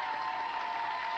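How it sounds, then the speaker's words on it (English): Studio audience applause on a 1994 television game show, a short steady burst of clapping heard alone. "Give him a big round of applause, guys"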